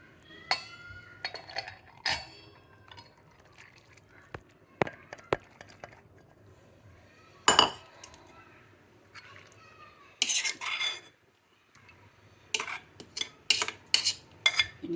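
Green moong curry being ladled from a pan into a serving bowl, with sharp metal utensil clinks and scrapes coming in irregular bursts, close up, with a brief cough and some faint talking.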